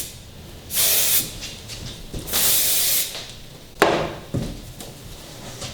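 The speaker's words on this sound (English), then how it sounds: "And now I'm going to take my session spray and do the same thing." Session hair spray misted onto styled hair in two separate close, bright hisses, each about half a second to a second long, followed by a few short knocks and rustles.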